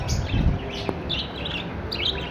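Pet albino black birds from a breeder pair give short, high chirps and tweets close by, over a low background hum.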